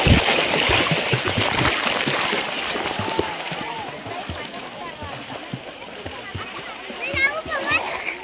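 Swimmers splash in a freshwater river at Dapoli on a crowded holiday, with steady close splashing and water noise throughout while children and other people talk and shout nearby.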